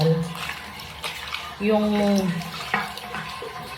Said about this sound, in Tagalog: Bubuhusan ko ng Sunrox.